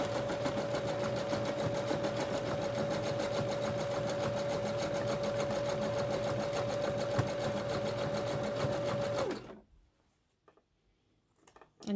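A sewing machine runs a zigzag stitch over the seams of ruched leggings in a fast, even, close mechanical whirr for about nine seconds, then stops abruptly, leaving near silence with a few faint clicks.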